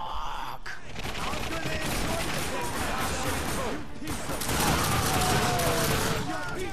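Dense gunfire fills a firefight in the video game The Darkness 2, a continuous loud crackle of rapid shots with clanks and impacts running for several seconds.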